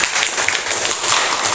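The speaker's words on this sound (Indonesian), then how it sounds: "tepuk tangan semuanya" A classroom of students applauding, a dense, even patter of many hands clapping together, fairly loud and continuous throughout the short burst.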